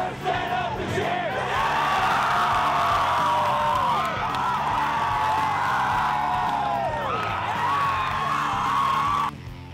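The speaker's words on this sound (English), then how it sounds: "the odd yet hilarious beer drinking cheer the teenage fan base spouts out at a moment's notice at any home ball game" Teenage fans at a Jasper, Indiana high school boys' basketball home game chant their beer-drinking cheer together, a loud, sustained crowd chant with rising and falling shouted phrases.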